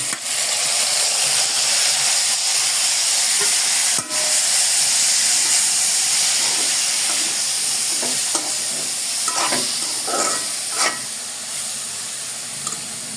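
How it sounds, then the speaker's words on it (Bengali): Boiled khesari greens hitting hot oil with fried garlic and dried chillies, a loud steady sizzle and hiss with scattered pops and stirring clatter toward the end, no voices. "এখন তেলে ভাজা রসুন ও মরিচগুলোর মধ্যে সিদ্ধ করা শাকগুলো দিয়ে দিলাম।"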